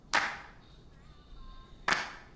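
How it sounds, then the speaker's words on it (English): Two heavily compressed clap samples in a music production, spaced well apart, each a sharp, loud hit with a smeared, sustained tail and a faint tonal bed between them. "just putting some more oomph in the claps, then compressing the hell out of them"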